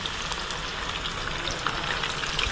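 Pakora frying in hot oil in a home kitchen gives a steady, close sizzle with soft crackles and pops that run on without a break.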